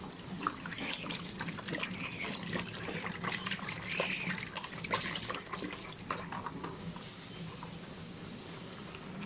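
Plain water is poured into an iron wok for honey pork ribs, a steady close trickle and splash lasting several seconds, fairly quiet.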